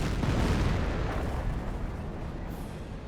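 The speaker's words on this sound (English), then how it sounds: "And there's sector artillery." Sector artillery shell blast in the Company of Heroes real-time strategy game, a loud broad rumbling boom that starts strong and slowly decays over about three seconds, heard alone.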